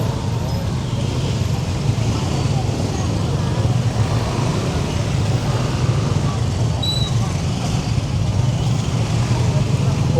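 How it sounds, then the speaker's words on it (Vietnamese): Dense roadway traffic near Angkor Wat at dawn, a steady low rumble of cars, buses and motorbikes held for the whole stretch with faint voices and crowd murmur mixed in. "Đông xe quá các bạn"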